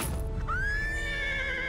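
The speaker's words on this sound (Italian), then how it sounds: "Il fantasma di Ponty Pandy Pete ha spaventato un cavallo e ora sta trasportando un carro a tutta velocità" A single frightened cartoon horse pulling a cart at full speed lets out a loud, high whinny that rises and holds, with a low rumble of hooves and movement underneath.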